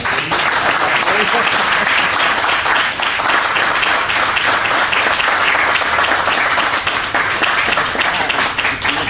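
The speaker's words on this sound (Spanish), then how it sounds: "os pido un aplauso, por favor" A crowd claps steadily in dense, sustained applause, loud and even from start to finish.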